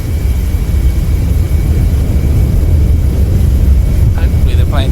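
A simulated Boeing 737-500 rolls out after landing with reverse thrust in Microsoft Flight Simulator, giving off a steady, loud, low engine roar throughout, with a few faint tonal chirps near the end.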